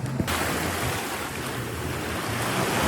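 Ocean waves wash steadily onto the shore at a beach resort in Lobo, Batangas, a loud continuous surf roar with wind buffeting the microphone and no talk.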